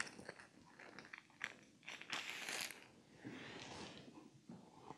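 Scissors cut through wool coat fabric around a pinned template with soft, close crunching snips in an irregular rhythm, faint and alone.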